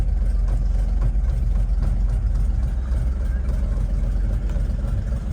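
A 1964 Chevrolet C60 truck with an inline 292 six-cylinder engine idles steadily and close, a loud, low, even rumble that continues without change throughout.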